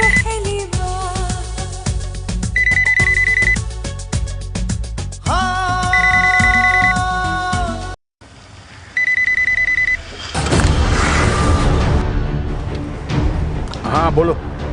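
Phone ringtone ringing unanswered, a repeating electronic melodic tone loud and close, with a brief pause mid-way before music-like ringing resumes.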